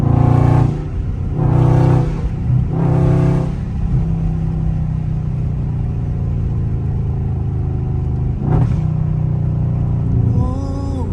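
A loud Scat Pack car engine at full throttle gives three quick, roaring revving bursts, then settles into a deep idle rumble before another sharp burst and a rising rev near the end, heard up close.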